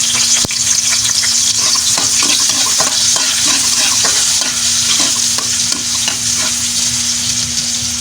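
Garlic sizzles steadily in a hot pan for Filipino pancit bato guisado, a loud, even frying hiss with occasional scrapes and taps of a spatula stirring.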